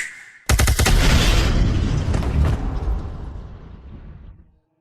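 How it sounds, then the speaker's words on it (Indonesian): A sudden loud animated explosion bursts in after a brief tone, a heavy booming blast with crackling debris that rumbles on and slowly fades to silence over several seconds. "Meledak."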